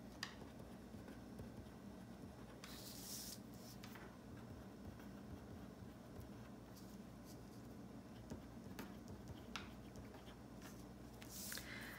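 A pen writes in a paper planner with soft, continuous scratching strokes close by, broken by a few brief louder rustles of paper or page handling.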